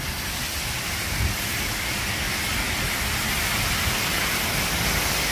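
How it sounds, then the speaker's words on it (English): Steady night rain falling on a city street, a dense, even hiss of drops on pavement with faint low rumbles beneath, continuous and close, without voices. "Just the beauty of the rain. The sound of the rain. On the street"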